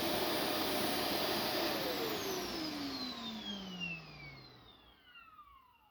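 A Shark vacuum cleaner motor spins down after being switched off, its loud whine sliding steadily lower in pitch and fading over several seconds until it nearly stops.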